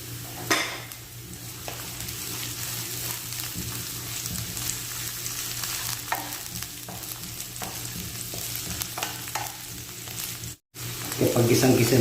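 Onion added to garlic already frying in a pan for chicken kinamatisan with gizzards and okra gives a steady, moderate sizzle and crackle, with occasional scrapes of a spoon stirring, and a low steady hum underneath throughout.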